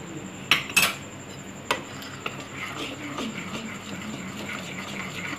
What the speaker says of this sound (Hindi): इसको अच्छे से आप मिक्स कर लें